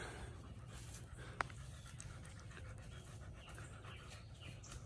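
A dog panting steadily up close on a woodland hiking trail, a continuous rhythmic breathy rasp with one brief sharp click, no talking.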